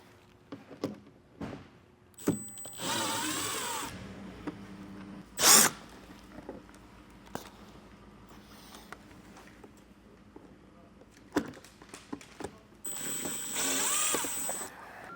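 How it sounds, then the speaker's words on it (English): Power driver removing T15 screws from the fender well of a 2024 GMC Canyon: several short whirring bursts of the tool, separated by light clicks, taps and handling noises, fairly close. "On the inside of our fender well, we're going to have 9 T15 screws we're going to remove."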